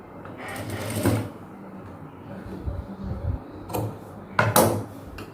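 A sewing machine runs in short bursts, stitching a folded-over seam on a silk blouse for a traditional silk skirt-and-blouse outfit, with a few close mechanical clatters and pauses between the runs.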